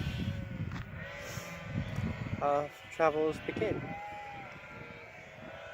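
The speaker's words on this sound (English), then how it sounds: "So if you can hear us over the sheep noise," Sheep bleat a few times out in the open on a farm, over a steady low rumble of wind, with a person talking throughout.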